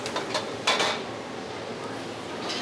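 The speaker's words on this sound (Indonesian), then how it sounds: "ini bawang putih, bombay, kita tumis" Garlic and onion being stir-fried in a pan in a restaurant kitchen, with a sizzling hiss under a few sharp scrapes and clanks of a metal utensil against the pan, close by.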